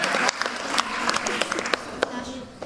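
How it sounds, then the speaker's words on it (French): Concert audience applause for performers, a burst of clapping heard close, with a voice speaking over it and a few sharp claps standing out. "vous pouvez l'applaudir très très fort aussi"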